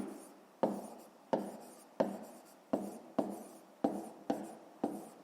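Pen strokes on paper during a maths exercise, heard as a steady series of about eight short scratchy strokes spaced roughly evenly, close-up and quiet, with no talking.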